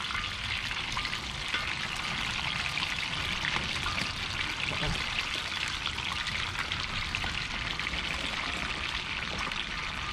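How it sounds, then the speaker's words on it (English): Chicken wings deep-frying in oil in a wok give a steady, dense sizzle and crackle that stays even and continuous throughout, fairly close, with no talk heard. "Just let them hear that sizzle."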